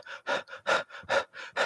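A person imitates a dog's panting with quick, shallow breaths, seven rhythmic breathy huffs alternating in and out, close and fairly loud.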